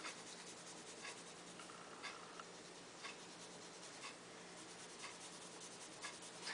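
A Crayola colored pencil scratches across paper in soft, repeated coloring strokes. The quiet, rhythmic scratching comes in short bursts about once a second, close up and alone.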